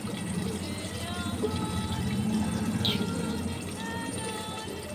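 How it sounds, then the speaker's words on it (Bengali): Water trickles and pours steadily into spices being mixed for vegetarian potol masala in a home kitchen, a soft continuous liquid sound. "আমি এখন এই মশলাটাকে একটু জল দিয়ে গুলে নেব"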